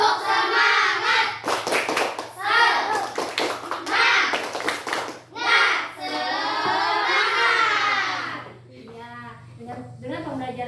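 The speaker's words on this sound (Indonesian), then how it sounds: "ayo kita semuanya tepuk semangat" Fourth-grade classroom of children doing a rhythmic group clap, sharp patterned bursts of hand claps alternating with children's chanting voices and a teacher speaking.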